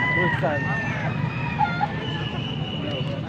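Crowing and clucking come from a young rooster, a stag, at a weekend market in Angeles City, Pampanga. Short harmonic calls sound close by over a busy, murmuring crowd, and people talk nearby.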